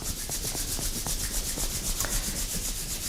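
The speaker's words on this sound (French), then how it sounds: "On frotte bien les mains pour accumuler l'énergie dans les mains." Hands rubbed together vigorously during a self-massage warm-up, a steady close, brisk friction rasp that holds without pause for a few seconds, with no voices.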